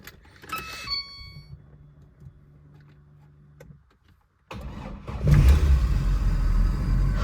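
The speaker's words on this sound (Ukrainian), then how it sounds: "І зараз будемо намагатись знову завести автівку." Car engine starting after the starter relay connectors were replaced with new ones: a quiet whirring and clicks, a pause, then the engine abruptly catches and runs loud and steady up close, briefly revving.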